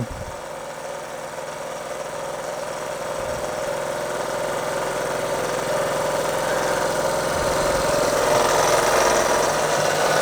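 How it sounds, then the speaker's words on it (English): A Bing Overtype model steam engine chugs and hisses steadily, a continuous mechanical running sound with faint rhythmic knocking, close and moderately loud throughout. "I've really enjoyed steaming this engine"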